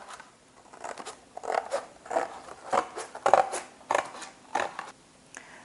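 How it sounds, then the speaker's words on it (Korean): A cardboard box is cut to size for a door nameplate, with about a dozen quick, crisp snipping cuts in a fairly regular rhythm, close and moderately quiet, with no talking. "현관문에 걸 수 있도록 상자를 적당한 크기로 잘라주세요"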